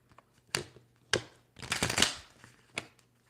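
Tarot cards shuffle in a few quick riffles: separate crisp flutters, then a longer rippling burst and a final short snap, close and fairly quiet.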